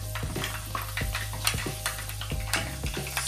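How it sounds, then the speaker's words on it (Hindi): Close sizzling of hot oil with sharp irregular pops and crackles as spices fry for a tempering, plus a low steady hum beneath. "ये लीजिए तड़का लग गया है, आया है पट पट करने लग गई।"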